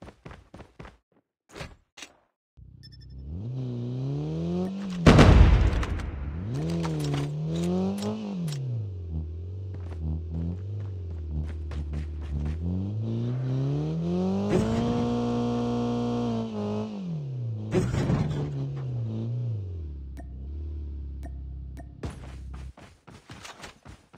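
A vehicle engine drives in a Call of Duty Mobile battle royale match, its pitch rising and falling as it accelerates and shifts, with a sharp impact burst near the start and footstep-like taps at the edges.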